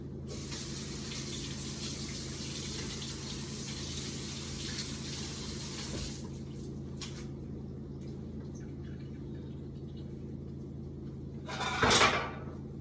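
Brussels sprouts being washed under a running kitchen tap, a steady broadband hiss of water that runs for about six seconds, then stops, followed by quieter handling and a brief splash near the end.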